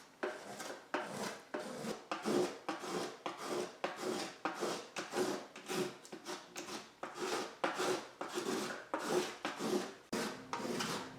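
Wood is scraped off a patch during repair of an 1800s violin, a close rhythmic series of short rasping strokes, about two per second, repeated steadily with nothing else heard.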